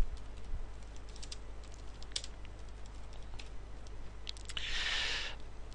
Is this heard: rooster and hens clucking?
no